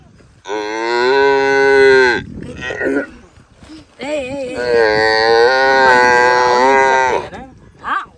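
A buffalo calf gives two long, loud moos close by, separated by a brief pause, with a shorter call at the end.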